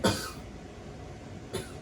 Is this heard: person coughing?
yes